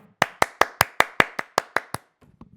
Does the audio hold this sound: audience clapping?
yes